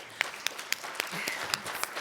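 Scattered claps from an audience at a policy roundtable, spread over the whole stretch, a few sharp individual claps standing out above a steady patter, moderately loud.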